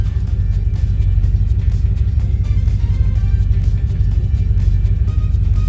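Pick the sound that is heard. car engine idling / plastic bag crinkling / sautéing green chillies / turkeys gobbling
car engine idling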